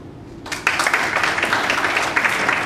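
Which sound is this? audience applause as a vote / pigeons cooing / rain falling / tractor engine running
audience applause as a vote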